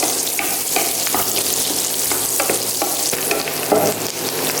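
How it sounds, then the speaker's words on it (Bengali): Onions frying lightly in a pan for a chicken roast, a steady close sizzle with soft stirring scrapes and small crackles running throughout, no voices. "পেঁয়াজগুলো বেশি ভাজবো না, জাস্ট হালকা একটু ভেজে দেবো"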